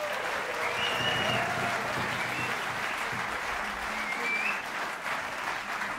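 Sustained applause from a jazz concert audience welcoming a guest trumpeter at the Bimhuis, steady and dense throughout with no pauses.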